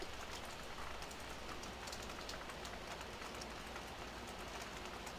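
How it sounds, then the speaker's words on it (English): Constant soft patter of rain in the video game Farming Simulator 15, falling on surfaces, a steady even hiss with scattered drop taps, quiet and uninterrupted. "Oh, I can hear the rain sound."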